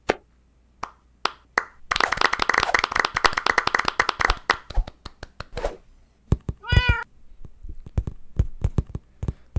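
A cat meows once, clear and close, after a long run of rapid clicking and tapping.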